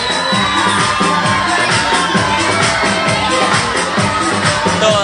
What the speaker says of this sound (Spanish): Comiencen a escuchar los gritos